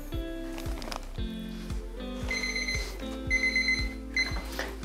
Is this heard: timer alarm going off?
yes